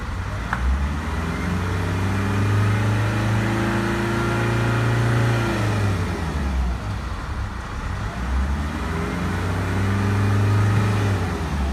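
A Nissan Navara D40 diesel engine, just fitted with a new SCV and still reluctant to rev up, drones through a sustained rev, drops back briefly, then climbs again; steady and close with no talking.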